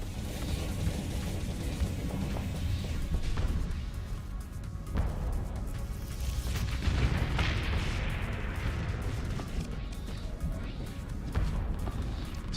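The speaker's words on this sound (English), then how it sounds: "That's a lot of burst fire." Burst weapon fire in the space combat game Starsector, a dense, continuous rumble of rapid booming shots and impacts with swelling and fading bursts, loud throughout.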